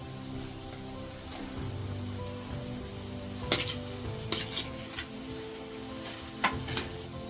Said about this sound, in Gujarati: મસાલો આપણો સારી રીતે સતરાઈ ગયો છે તો અમે આપણે એમાં બાફેલા બટેકા એડ કરીશું